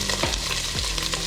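Ginger and garlic fry in a hot pan for a Kerala-style fish curry, producing a dense, close sizzle. A spoon stirs through it with a couple of brief scraping sweeps.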